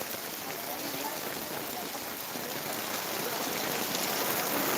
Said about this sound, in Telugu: పాపం వర్షంలో తడుస్తుంది